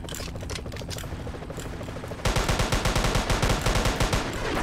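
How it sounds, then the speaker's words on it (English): Rapid bursts of gunfire from the Roblox game ERLC, a dense run of sharp shots with a steady rhythm that grows louder and more forceful partway through, with no talk over it. "Shots fired! Shots fired!"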